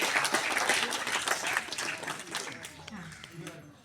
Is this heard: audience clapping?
yes